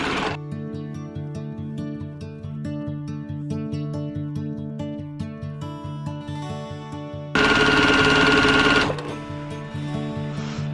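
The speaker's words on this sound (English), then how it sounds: "I can just stitch 1/4 inch" A sewing machine stitches a quarter-inch seam through five layers of pillowcase fabric, a close, rapid mechanical chatter of needle strokes running steadily throughout, with a brief louder whirring surge near the end.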